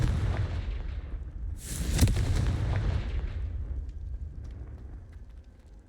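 A Confringo fire spell detonates in Hogwarts Legacy inside an ancient professors' tomb: one loud, close, booming explosion bursts suddenly and rolls off into a long rumbling decay.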